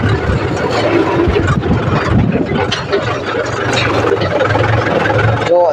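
A tractor engine runs in top gear on the way to fill up with diesel, a loud, steady mechanical rumble with gear and ratchet-like rattling throughout and a brief voice near the end.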